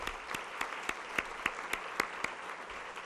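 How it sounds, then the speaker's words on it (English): An audience applauds an award scholarship winner at a Champions of Healthcare event, with steady, moderately distant clapping and a few sharper individual claps standing out over about three seconds. "Please help me to congratulate Zach by giving him a round of applause"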